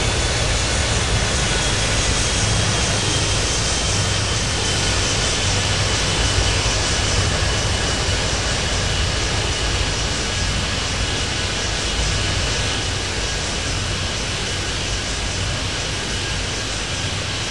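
Jet aircraft engines roar continuously in the airport traffic game Airport Madness 3D, a steady, dense, loud drone with no pauses and no voices.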